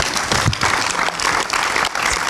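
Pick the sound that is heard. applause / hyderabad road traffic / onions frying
applause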